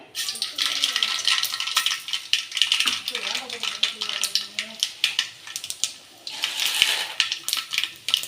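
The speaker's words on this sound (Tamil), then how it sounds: "எண்ணெய் சூடாயிட்டு கடுகு சேர்த்துக்கிறேன்" Mustard seeds spluttering in hot oil for coconut rice, a dense run of sharp crackles and pops, close and fairly loud, with a brief voice underneath partway through.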